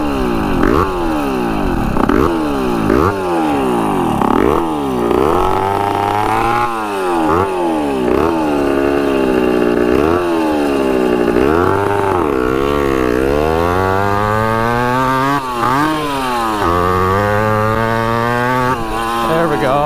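A 1980s Honda CR80 two-stroke dirt bike, a barn find with a restrictive exhaust pipe, revs loudly and up close in repeated sharp blips that rise and fall, then holds higher buzzing revs.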